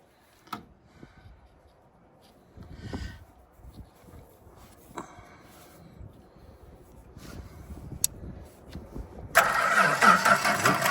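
Quiet, sputtering engine cranking attempts on a ute with a dying battery, scattered clicks and knocks, then a louder, harsher mechanical roar bursts in near the end.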